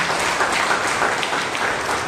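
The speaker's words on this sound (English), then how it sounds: "can we thank Him for it by giving a loud clap offering to Him?" A church prayer meeting congregation gives a loud clap offering, with dense, steady applause filling the room for a couple of seconds.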